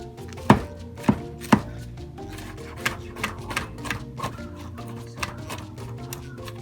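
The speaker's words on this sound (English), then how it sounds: "So I'm gonna cut the mushroom up" A knife chopping mushrooms on a cutting board: three sharp, loud knocks at the start, then a lighter, uneven run of taps, close up with music playing underneath.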